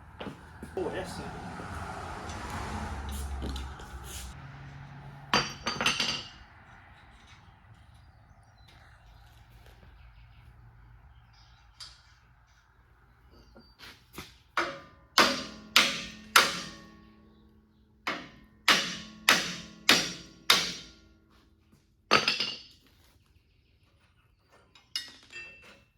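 A hammer strikes metal or wood outdoors in a run of sharp, loud knocks, first a few isolated blows and then a quick irregular series of about a dozen, after a stretch of muffled voices and rumbling.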